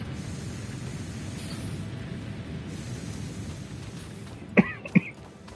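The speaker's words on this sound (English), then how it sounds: "Have a slight cough." Two short, sharp coughs close to the microphone near the end, following a stretch of low steady background noise.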